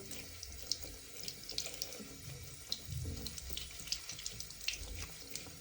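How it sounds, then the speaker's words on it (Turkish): Water from a running tap splashes over a Dyson V12 brush head while it is rubbed underneath, a steady close rush broken by soft knocks and irregular splashes. "onları evet şöyle suyun altına sürüyorum"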